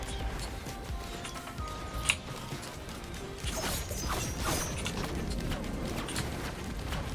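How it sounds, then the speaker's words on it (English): Void Reaver enemy in the video game Risk of Rain 2 making steady mechanical creaking and ratcheting noise, with scattered clanks and one sharp knock over several seconds. "It's a Void Reaver."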